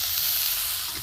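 Prawns frying in a pan give a steady, close sizzle, an even bright hiss that holds without a break and carries no talk.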